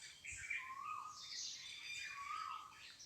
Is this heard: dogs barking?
no